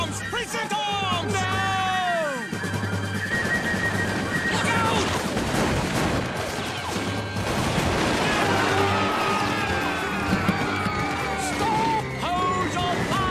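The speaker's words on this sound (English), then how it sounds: "Tom, we're being shot at." Volleys of musket gunfire in an animated Revolutionary War battle scene, loud repeated cracks and bursts over shouting voices and dramatic music throughout.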